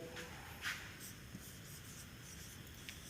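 Pen or chalk scratches against a board during a physics lecture on electric field intensity, producing a few faint, quick strokes over a steady hum of room noise, with no voices.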